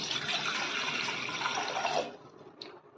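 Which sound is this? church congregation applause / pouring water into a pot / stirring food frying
pouring water into a pot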